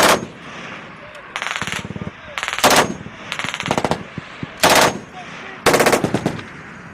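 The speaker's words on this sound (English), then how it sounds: "a video of French troops in Afghanistan firing towards the mountains" French troops in Afghanistan fire machine guns toward the mountains in loud, close bursts of rapid automatic fire, each burst echoing off the slopes, with short pauses between.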